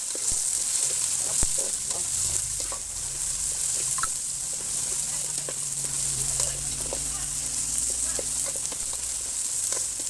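Ingredients for monggo sizzle and fry in a hot pan with a continuous hiss, punctuated by small pops and light stirring scrapes, close and steady throughout.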